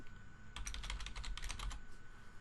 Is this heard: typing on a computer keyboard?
yes